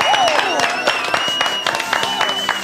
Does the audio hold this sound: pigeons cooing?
no